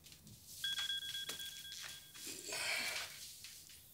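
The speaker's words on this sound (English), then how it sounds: "I set a few alerts on my phone." A phone sounds an alert with a steady two-tone electronic chime, followed by faint rustling and background room noise, with no one speaking.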